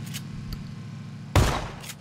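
A single sharp shotgun blast in a video game bursts out from a moving car over a low engine hum, preceded by a few faint distant pops.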